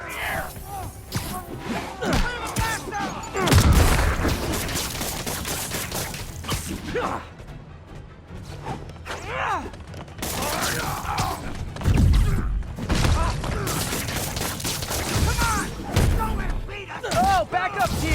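Bursts of cartoon gunfire are aimed at Spider-Man in an animated episode, with rapid shots and thuds mixed with loud character voices and dramatic music throughout.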